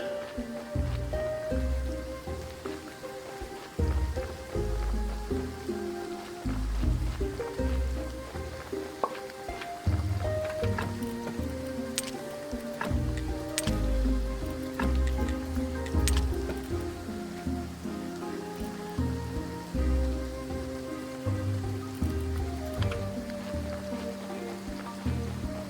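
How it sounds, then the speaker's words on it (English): Steady rain falls in the Graveyard Keeper video game, a continuous hiss of drops layered under soft background music. "Enjoy the rain, idiot."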